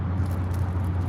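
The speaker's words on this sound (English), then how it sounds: "you hear the trolley now" A trolley rolls past a city park, a steady low rumble with faint rattling that holds level and close throughout, with no voices over it.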